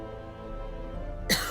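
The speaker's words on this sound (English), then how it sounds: "I don't know why I'm coughing so much today" A single short cough bursts out near the end, close and loud, after a stretch of steady low background hum.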